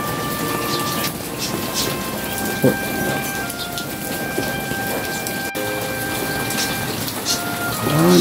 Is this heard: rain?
yes